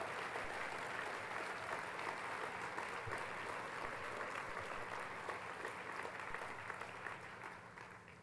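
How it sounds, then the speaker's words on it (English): Dense, steady applause from a dinner audience at the Empire State Pride Agenda 2007 Fall Dinner, a continuous wash of many hands clapping that slowly tapers off toward the end. "let's give the corporations in this room a big round of applause for standing up for us"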